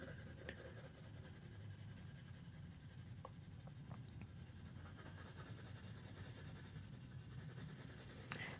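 Graphite pencil shading on paper, pressed ever harder to darken the tone, gives a steady, close, continuous scratchy rubbing with a few faint ticks and no talk.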